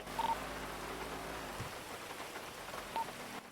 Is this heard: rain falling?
yes